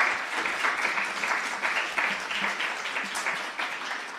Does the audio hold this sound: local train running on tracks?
no